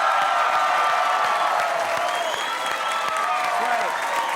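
A studio audience at a late-night comedy taping applauds and cheers steadily, a dense, loud wash of clapping with scattered whoops that continues without pause throughout.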